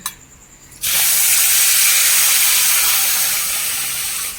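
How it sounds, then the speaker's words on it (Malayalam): Hot water poured onto roasted semolina in a pan bursts into a loud, sudden hiss that holds steady as a close, dense steaming roar before fading slightly. "നമുക്ക് ആവശ്യത്തിന് വെള്ളം ഒഴിച്ച് കൊടുക്കാം ചൂടുവെള്ളമാണ് കേട്ടോ ഒഴിക്കുന്നത്"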